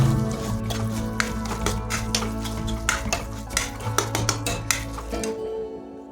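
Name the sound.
stirring mustard paste with fish-frying oil in wok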